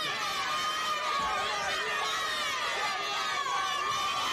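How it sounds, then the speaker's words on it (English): A basketball arena crowd at a 1998 MAAC men's quarterfinal, Rider versus Manhattan, fills up and chatters steadily in a dense, continuous roar of many distant voices with occasional shouts. "Good crowd as the arena continues to fill up."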